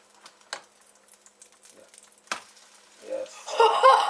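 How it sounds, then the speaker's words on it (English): An egg frying in oil in a pan, with a soft sizzle that swells louder near the end, broken by a couple of sharp clicks and brief voices in the background. "Look at that egg sizzling."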